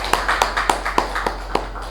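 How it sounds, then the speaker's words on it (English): Claps at a Toastmasters meeting, about seven sharp hand claps spaced evenly in a steady rhythm over a low constant hum, sparse rather than a full crowd's applause. "So let's give a round of applause to Ujjwal for that."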